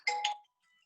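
A short two-tone electronic chime rings once from a phone, bright and clear, then fades into near silence.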